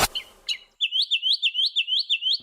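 A mockingbird sings a run of about a dozen bright, evenly spaced chirped phrases, clear and close, after a few brief scratchy notes at the start.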